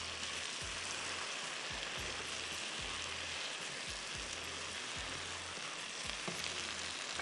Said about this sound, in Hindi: इसको अच्छी तरह आप भून लें।